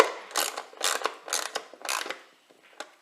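A hand ratchet tightens bolts on roof rack brackets of a Range Rover L405, giving several quick bursts of close, crisp clicking with short pauses between strokes.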